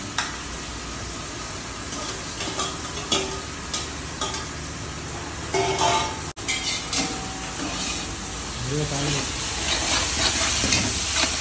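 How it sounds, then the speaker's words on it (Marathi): Onions and garam masala fry in a large pot for mutton dum biryani, giving a continuous sizzling hiss broken by scraping stir strokes, with a sharp brief break partway through and the sizzle growing louder near the end. "आणि तो आता मागं जा आता फ्राय करून देतो कांद्याला."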